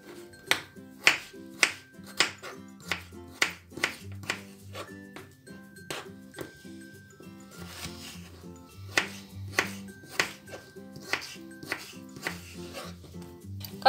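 Knife chopping a raw potato on a board in a home kitchen while making borscht, a steady run of sharp, close taps at an even rhythm, with faint low background hum beneath.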